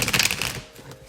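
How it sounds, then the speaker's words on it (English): A deck of tarot cards is shuffled by hand in a short, close burst of riffling and flicking that fades after about half a second, with no one talking. "I've already meditated upon the cards and have shuffled, but as always, I will shuffle live."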